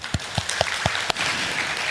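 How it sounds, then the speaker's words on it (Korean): Church congregation applauding at a teachers' dedication service in Busan: a few distinct loud claps in rhythm, then merging into a steady wash of clapping, close and without speech. "수고하신 여러분들에게 우리 모두 박수 한번 하겠습니다."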